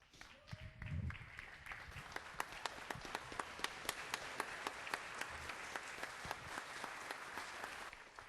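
A standing audience applauds at a police commendation ceremony, sustained clapping with distinct sharp individual claps standing out, fairly quiet and distant, while a voice speaks briefly near the start.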